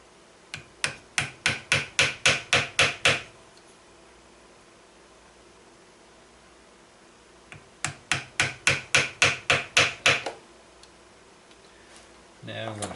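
Small rapid hammer taps drive wire into a wooden gun stock, two bursts of about a dozen sharp, close, accelerating strikes separated by a quiet pause.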